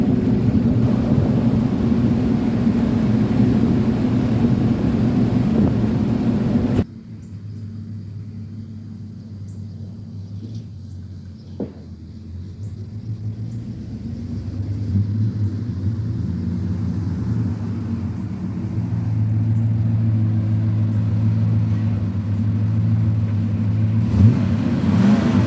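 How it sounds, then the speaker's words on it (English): Truck cabin on the road, a steady low engine rumble and road drone throughout, with a shift in tone partway through and no talking. "This truck ride's nice."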